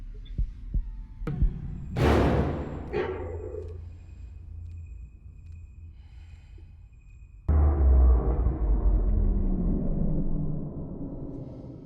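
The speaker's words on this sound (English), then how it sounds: "I love the heartbeat that's playing in the background." A low, throbbing heartbeat sound effect pulses in the background of a scene from the film Doctor Sleep, heavy and muffled beneath swelling score and sudden bursts of noise.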